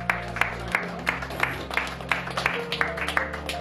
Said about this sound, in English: we get a round of applause for our hero